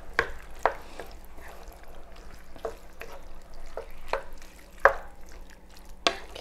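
Shepherd's pie filling being stirred in a pan, with scattered scraping and clattering stirs at irregular intervals over a steady low background, close and moderately loud with no talking.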